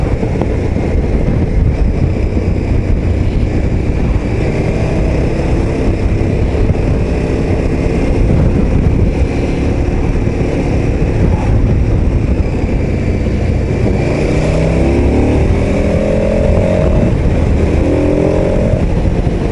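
A KTM 1290 Super Adventure S motorcycle engine drones loudly and steadily on the road, with wind rush and small shifts in revs throughout. No talk is heard.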